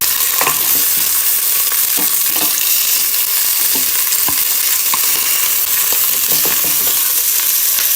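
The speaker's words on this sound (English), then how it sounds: "You hear the sugar? That's what that sounds good." Sugar for homemade candy sizzling steadily in a hot pan while being stirred, with scattered scraping clicks from the spoon over a continuous close fry.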